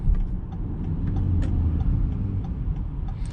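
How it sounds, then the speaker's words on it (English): A 2021 BMW X3 SUV engine hums steadily at a low pitch while driving, with faint ticking sounds scattered over the rumble. "And the engine has a very nice note to it."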